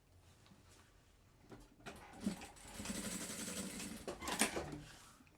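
Sewing machine running in short bursts while stitching a personalized fabric Bible cover, a quiet whirring that starts faintly, builds into a steady mechanical chatter and ends with a brief higher buzz.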